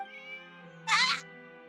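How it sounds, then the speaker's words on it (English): A stray cat in a video game lets out a single short, clear meow while Furina plays with it, rising briefly over a steady backdrop of soft background music. "Furina playing with a stray cat,"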